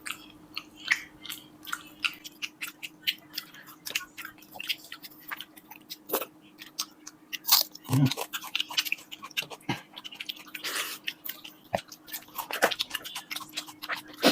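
Steady wet chewing and crunching of fried hilsa fish eaten with fermented rice water, close and continuous with irregular bites and squishes, one louder crunch partway through and little talking.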